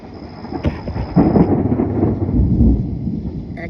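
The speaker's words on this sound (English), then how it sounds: "Okay, that's thunder." Rolling thunder from a summer storm on the Fourth of July rumbles low and heavy, building after a sharp crack and sustaining a deep, continuous roar for several seconds with no voices.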